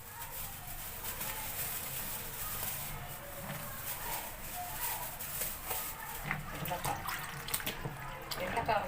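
Market-bought vegetables, including okra, rinsed under running tap water, a continuous splashing wash with occasional knocks and handling sounds, close and steady throughout.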